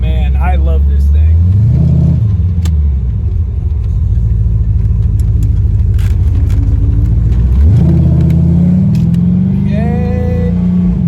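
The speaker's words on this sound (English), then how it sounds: "This thing sounds mean. The cam sounds great. The exhaust sounds great." A 1988 Corvette with a 383 V8 and aftermarket cam and exhaust rumbles loudly and close, with throttle rises and gear changes as it accelerates, under steady cabin noise and occasional talk.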